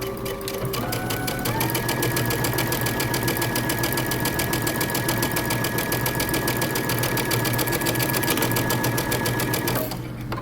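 A home sewing machine runs steadily and loudly for about ten seconds, stitching and backstitching a back dart on a Simplicity 8221 shirt dress, with a rapid even needle rhythm and no talking.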